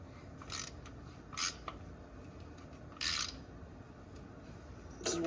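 Ratchet working an overtightened oil drain plug, a few sharp separate clicks and ratcheting bursts spaced apart against a quiet background.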